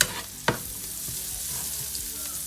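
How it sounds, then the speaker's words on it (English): Onions frying with pepper and spices in a pan while the drippings are scraped up, giving a steady close sizzle with one sharp scrape of a utensil against the pan early on and softer stirring after. "I'm just scraping off all of the drippings. And the pepper and the spices."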